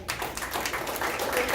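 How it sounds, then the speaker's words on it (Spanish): Church congregation clapping in praise to the Lord, a fairly dense spread of many hands that swells slightly toward the end, moderately loud and without talk. "Den un aplauso al Señor."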